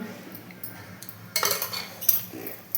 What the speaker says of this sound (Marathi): आणि हे व्यवस्थित मिक्स करून घ्यायचं आहे